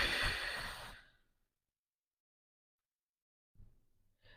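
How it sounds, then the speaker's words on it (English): A single deep, breathy exhale during a guided breathing exercise, fairly close and airy, fading out into silence before a quieter breath begins near the end. "let's take a deep breath"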